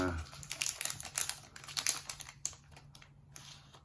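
Plastic foil sachet from a COVID-19 antigen test kit being torn open and crinkled close up, a quick burst of sharp rustling and ripping that tapers into lighter crackles.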